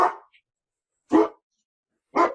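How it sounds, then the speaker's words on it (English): A dog at home gives three separate short barks about a second apart, loud and close, with silence between them and no growl evident. "I have a growly dog who keeps looking out the window at the minute and growling at anyone that walks past."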